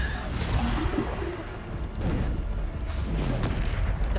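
Bombarda explosion spells cast in Hogwarts Legacy on PS5 burst in a series of heavy, booming blasts with whooshing rushes, loud and continuous over game sound, with no talk.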